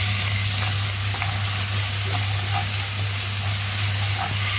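Coarsely pounded spice paste frying for Indonesian nasi goreng, a steady, dense sizzle with a constant low hum beneath and occasional light clicks of stirring, close and continuous throughout.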